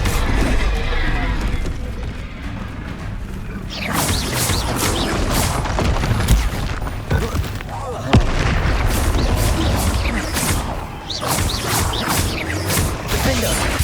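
Confringo blasting spells explode in a Hogwarts Legacy battle, a dense stretch of booming, crashing blasts layered over continuous combat noise.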